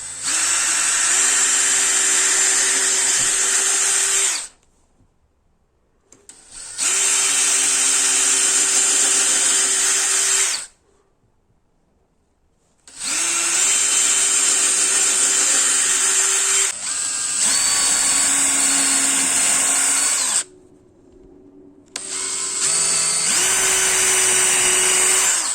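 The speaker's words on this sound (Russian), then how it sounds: "Теперь сверлим отверстие." A power drill whines loudly in several long bursts with short silent gaps between them, its pitch shifting slightly as it bores a hole through a wooden board.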